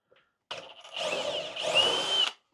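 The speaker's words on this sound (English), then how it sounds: "I'm going to use a Forstner to countersink a little bit," A Forstner bit bores a countersink into cedar with a power drill: a short ramp-up, then a sustained gritty grinding whirr with rising whine as it cuts, stopping abruptly after about two seconds, close and clear.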